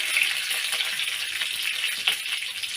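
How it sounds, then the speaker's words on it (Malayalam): Mustard seeds splutter in hot oil alongside curry leaves for a Kerala drumstick thoran, giving a close, continuous sizzle dotted with sharp pops and one louder crackle near the end. "കടുക് പൊട്ടി"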